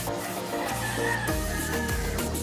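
Chickens and stag roosters on a farm in Payatas, Quezon City cluck and crow close by, with overlapping calls and a drawn-out crow cutting through the flock's busy noise.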